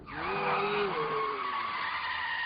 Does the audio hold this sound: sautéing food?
no